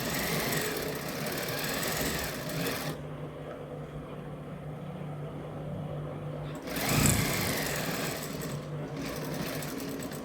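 A sewing machine stitching a shirt collar: a loud, fast, steady mechanical whir running close by, briefly slowing and pausing midway with a faint clunk before resuming, with no talking over it.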